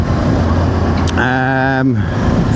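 A Voge DS525X motorcycle's 494cc parallel twin with a 270-degree crank revs briefly with a throaty, burbling exhaust note, rising for under a second, then dropping back over steady background noise.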